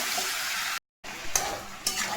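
Spiced meat frying and browning in a pan with a steady sizzle throughout, broken by a brief silent gap and a couple of sharp stirring scrapes near the end.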